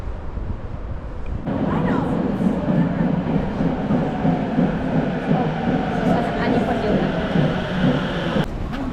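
A Tokyo subway train on the purple line running underground, with a steady low rumble and rattle of the carriage and faint clicks along the track, while people talk inside the car.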